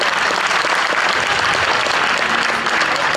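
An audience at a sports awards evening applauds musicians, a loud, dense, continuous wash of clapping from a large crowd that fills the whole moment without a break.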